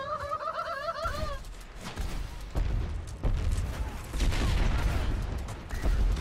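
Gunfire in the video game Overwatch, with dense bursts of shots and booming impacts that build in intensity, and warbling electronic tones sounding early on.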